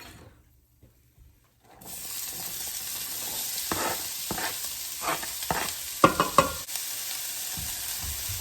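Onion hits a teaspoon of hot olive oil in a pan after a quiet start, bursting into a steady sizzle with scraping stirs and a few sharper clatters from a utensil against the pan.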